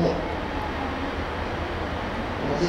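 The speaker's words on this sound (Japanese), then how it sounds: "線に列車が参ります。" A DE10 diesel locomotive hauling old-style coaches pulls into Niitsu station, a steady rumble of engine and wheels that holds near-constant loudness throughout, with no voices over it.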